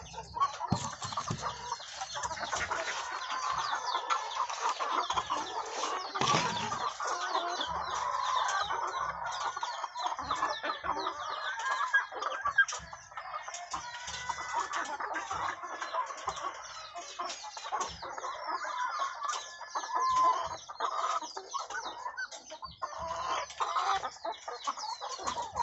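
Chickens cluck steadily and continuously on a backyard egg farm, a dense flock chorus close by with no talk over it.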